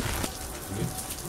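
Rain falling steadily in Suzdal, Russia, in August, a soft continuous patter with scattered drops hitting a surface nearby.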